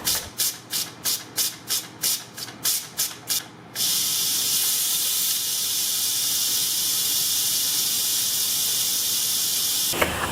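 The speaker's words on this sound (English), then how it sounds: "The pressure cooking is complete, and now we want to quick release the steam." An Instant Pot pressure cooker vents steam on quick release, first in about ten short, sharp hissing bursts, then in a loud, continuous rushing hiss that stops abruptly, close by.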